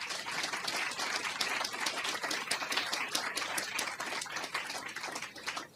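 A lecture audience at Wits University applauds at an inaugural economics lecture. The clapping is a sustained, even patter of many hands, fairly soft and distant, thinning slightly at the end.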